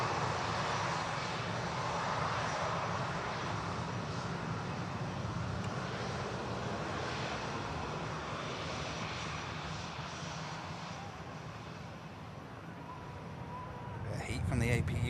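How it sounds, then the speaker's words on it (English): An Aer Lingus Airbus A321neo jet in from Dublin touching down at Manchester Airport, a sustained, fairly loud engine roar that eases slightly before swelling again near the end. "Aer Lingus 321 Neo next to touchdown."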